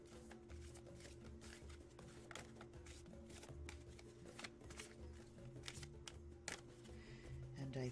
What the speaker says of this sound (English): now I'm going to go ahead and shuffle with that question in mind